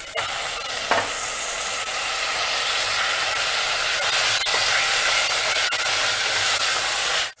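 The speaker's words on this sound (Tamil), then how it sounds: "இப்போ நம்ம வந்து தக்காளி ஆட் பண்ணுறோம்." Chopped tomatoes sautéing in a pan after ginger-garlic paste, for a spicy crane bird (madayan) gravy, giving a steady close sizzle with stirring scrapes throughout, no talking.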